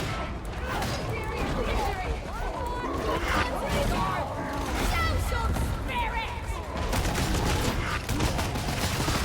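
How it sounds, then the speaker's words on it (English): Rapid bolt gun fire and dense combat noise from the video game Warhammer 40K Darktide, a continuous loud barrage of gunshots with voices talking over it. "Thank God I brought the bolt gun, eh?"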